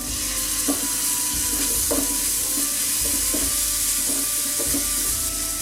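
Loud, steady sizzling of ginger garlic paste frying in a hot pan, with a utensil scraping and stirring every second or so.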